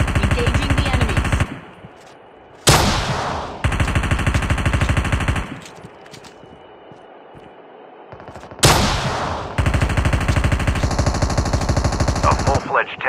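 A tank in Call of Duty Mobile fires long, loud automatic bursts, broken by two heavy blasts and short quiet gaps.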